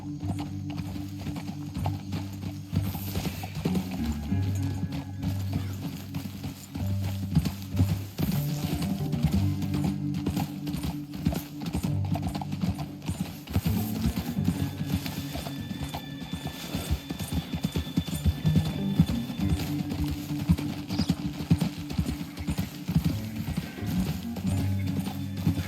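Horses gallop in Red Dead Redemption 2, a constant drumming of hoofbeats with faint mechanical clinks and a brief whinny, steady and close throughout.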